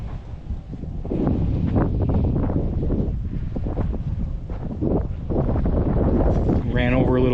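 Wind gusting across a corn field during furrowing on a chilly day, a steady loud rushing buffet on the microphone throughout, with a brief bit of vehicle or machinery noise near the end.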